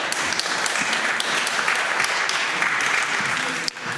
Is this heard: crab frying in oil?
no